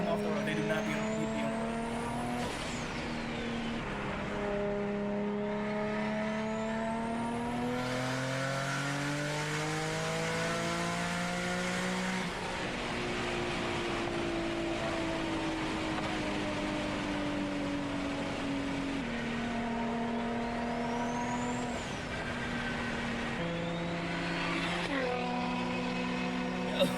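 A car engine revs and accelerates with a rising turbo whistle, harmonics sweeping up and dropping through repeated gear changes, loud and continuous with a voice talking over it.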